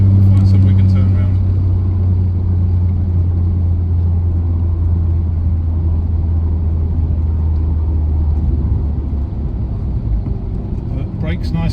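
A 1989 Toyota Celica GT-Four ST185 rally car accelerating at half throttle, a steady loud engine drone heard from inside, easing slightly toward the end.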